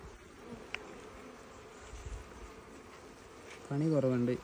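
Honey bees buzz faintly in a steady low hum at a beehive during a honey harvest. A person speaks briefly near the end.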